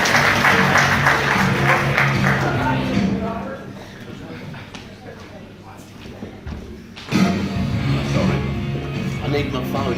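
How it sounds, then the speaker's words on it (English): Audience applause at a 25th anniversary ball and awards night, a loud burst of clapping that fades under chatter and a voice, then a second surge of clapping toward the end. "Better give him another round of applause again"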